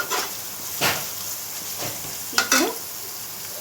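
Onions frying in a pan with turmeric: a soft steady sizzle with a few scraping stirs of a spoon, close and fairly quiet, with a brief spoken word.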